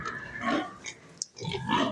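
Pigs on a farm, six sows and seven young boars, grunting close by in a few uneven bursts with a short pause between them.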